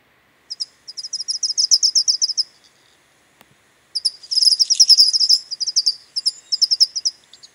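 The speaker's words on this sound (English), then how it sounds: "Let's see what the towhee sounds like." A towhee's bright, rapid song in two long bursts of quick repeated high notes, with a short pause between and a brief final phrase, clear and fairly close.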